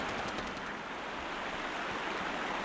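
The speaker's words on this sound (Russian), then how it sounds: "как громко вода вообще" Loud rushing water in the Sherlock Holmes Crimes & Punishments video game, a steady broadband roar near and alone for a few seconds.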